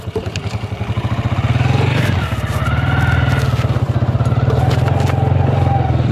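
A motorcycle engine idles and putters close by in a steady, rapid rhythm, rising slightly in pitch midway as it moves off, running alone without talk.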